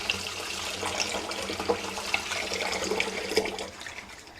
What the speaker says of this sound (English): I just put my rice in a bowl, and I put water in it.